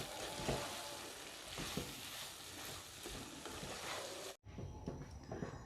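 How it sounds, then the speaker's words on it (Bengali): Pea masala sizzles and fries in a pan while being stirred, a loud, steady hiss with scraping stirs, briefly cutting out before resuming. "আবারও সব কিছু ভালো করে মিশিয়ে 2-1 মিনিট ভেজে নেব।"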